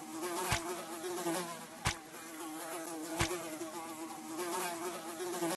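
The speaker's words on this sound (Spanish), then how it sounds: "Ayúdalo a ahuyentar a las abejas molestas." Buzzing bees in a children's cartoon, a thin continuous drone that hangs steadily in the background, with a few soft clicks over it.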